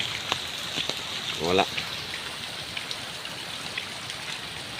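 A sudden heavy downpour hisses steadily outdoors, a broad, even wash of falling rain with scattered drop patters. A voice briefly speaks over it.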